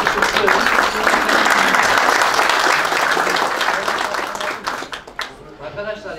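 Loud, dense audience applause at a championship celebration for the Bayrampaşa football team, sustained for several seconds before thinning into scattered claps as a voice begins to speak near the end.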